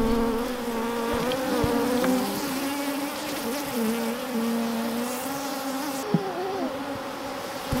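Honeybees from a hive dropped out of a tree swarm in a loud, continuous drone around an opened horizontal hive box, many wings humming close by without letup, with no talking.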